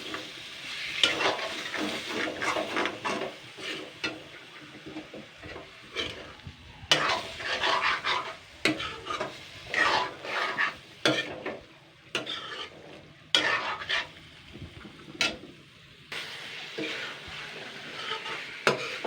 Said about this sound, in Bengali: কুদিটা আর আলু আর মশলাগুলো দিয়ে জাস্ট আমি আবারও 2 মিনিট মতন কষিয়ে নেবো।